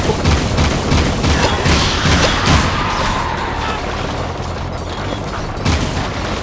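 Dense, continuous rapid gunfire from the Jak II video game, loud and close with heavy booming impacts and clattering bursts running without a break throughout.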